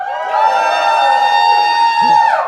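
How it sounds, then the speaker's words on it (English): A PAX East convention crowd roars and whoops loudly and continuously to cast a vote, the dense cheering holding at full strength throughout with a brief shout near the end. "If you want to vote for number 2, let's hear a cheer."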